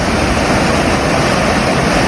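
Water rushes loudly and continuously over an overflowing weir, a dense unbroken roar close by with no pauses.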